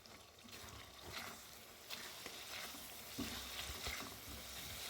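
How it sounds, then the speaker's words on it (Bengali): Tuna fish being stirred in a hot pan, soft scraping and stirring strokes over a low sizzle, faint and fairly close, repeating irregularly with no talk. "এখন ভালো করে মিশিয়ে নিচ্ছি"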